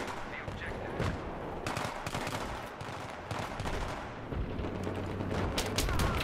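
Battlefield 3 combat on Sharqi Peninsula: continuous crackling gunfire and bursts of automatic fire run throughout, dense and fairly loud, mixed with scattered thuds and booms.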